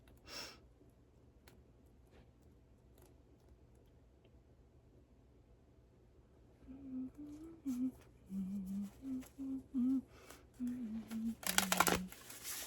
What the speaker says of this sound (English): There's a better shuffle.